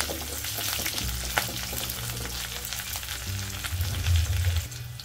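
Curry leaves sizzle and crackle in hot oil with crushed garlic and slit green chillies, a steady tempering for Maharashtrian zunka that runs throughout and swells louder near the end.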